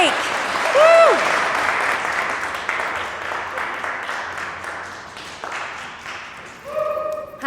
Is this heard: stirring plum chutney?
no